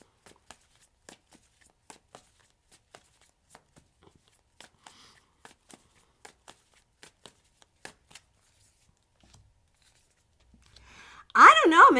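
Tarot cards being shuffled by hand, a steady series of soft, crisp riffling taps close by, evenly spaced for about eleven seconds, before a person begins talking at the end.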